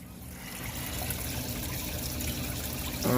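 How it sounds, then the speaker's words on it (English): Water trickling and pouring steadily during a water change in a home aquarium holding a cichlid, a continuous close splashing flow with no voices. "I'm changing the water."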